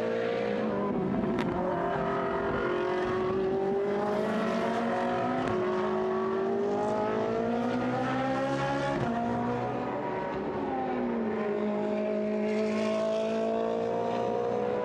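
GT sports race cars, including a Ferrari, lapping a circuit in Hungary during a free practice session: high-pitched engines rising and falling through gear changes, loud and sustained with several cars overlapping.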